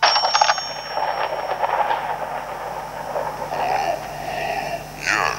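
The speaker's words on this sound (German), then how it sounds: "Das Telefon verfolgt uns. Es klingelt." A telephone rings in the horror game Layers of Fear, a repeated electronic trill over a low droning ambience, moderately loud with no speech.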